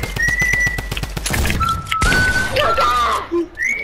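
A person whistling during a Fortnite match with friends, a clear high tone sustained across the clip amid game gunfire bursts and rhythmic thuds, with talk over it.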